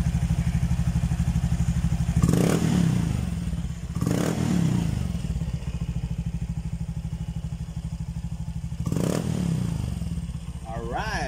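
Honda Genio scooter fitted with an EXOS X6 exhaust pipe idles steadily with a low, throbbing rumble, broken by three brief throttle blips; voices can be heard faintly in the background.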